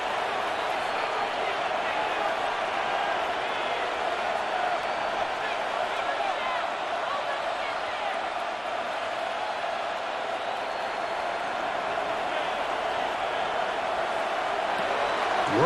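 Stadium crowd at a simulated NFL game in Madden 26, Steelers at Chargers, a dense steady roar of cheering and noise lasting throughout, with commentary voices over it.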